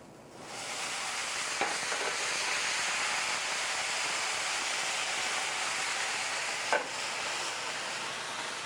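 A pot with shallots being deglazed with Pinot Gris verjus, a loud steady sizzling hiss with steam, with two brief scraping knocks.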